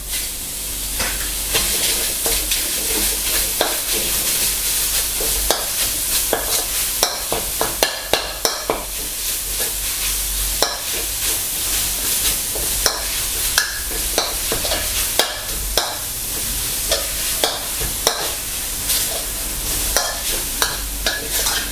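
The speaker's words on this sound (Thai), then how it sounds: "นำเนื้อหมูลงคั่วนะครับ" Minced pork stir-frying in a hot pan for a Thai kua kling dish with stink beans, a steady loud sizzle with repeated scraping of a utensil stirring the meat throughout.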